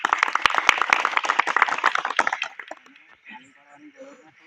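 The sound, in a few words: applause welcoming Bharatbhai to the stage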